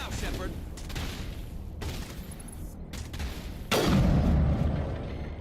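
Gunshots and booming combat in the video game Mass Effect, with repeated sharp reports and a loud blast near the end, while voices talk over the firefight.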